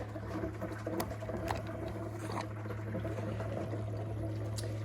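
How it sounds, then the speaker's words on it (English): Countertop reverse osmosis water filter flushing right after its reservoir is connected: a steady low hum from the unit under a soft, continuous patter of running water, with a few faint clicks, close and quiet. "you'll see that it starts to do a little bit of a flush there"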